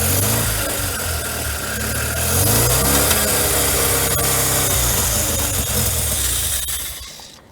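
A small engine fitted with a Nikki carburetor runs steadily and loudly up close, its tone rising slightly midway before cutting off abruptly at the end.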